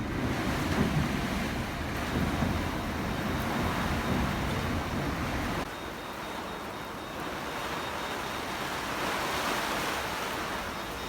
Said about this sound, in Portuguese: agora veio, tá batendo aí 30 nós, chuva, vento